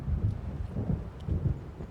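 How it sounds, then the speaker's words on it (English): Thunderstorm in the Alan Wake video game, with a low, rolling thunder rumble and steady storm noise, moderately loud and sustained with no voices. "It seems there's a storm coming."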